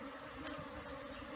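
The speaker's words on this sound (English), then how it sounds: "Beehive made of a log, hollowed out log. Lots of bees inside." Dense, steady buzzing of many bees inside a hollowed-out log beehive, close and continuous without a break.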